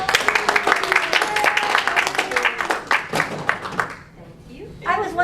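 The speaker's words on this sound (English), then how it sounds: "I just was wondering if we could give Juan a round of applause" An improv comedy audience applauds the night's improv master, with dense, lively clapping for about four seconds before it fades out and a voice speaks.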